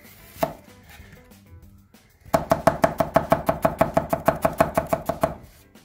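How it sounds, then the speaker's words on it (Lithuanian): Onions are chopped with a knife on a board: one knock, a pause, then a fast, even run of about eighteen crisp, close chops. "Pjausim svogūnus."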